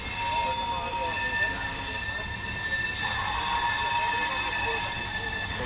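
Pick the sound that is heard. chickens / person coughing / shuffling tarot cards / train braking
train braking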